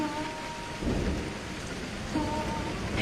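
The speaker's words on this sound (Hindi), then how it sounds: "फिर गांव में बारिश होने लगती है।" Steady rain pours down over a village while low rumbles of thunder roll in twice, swelling briefly before fading back into the downpour.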